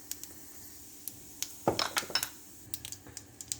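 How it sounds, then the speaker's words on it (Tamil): Mustard and cumin seeds splutter in hot oil in a pan, giving scattered sharp pops and crackles, sparse at first and then clustering into a brief burst of bright snaps. "கடுகு ஜீரகம்லாம் பொரிஞ்சிடுச்சு"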